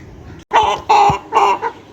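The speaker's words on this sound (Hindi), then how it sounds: "मुर्गा आवाज़ें निकाली जा रहा है।" An Aseel rooster crows loudly and close by, a few strained, raspy calls in quick succession with short pauses between them.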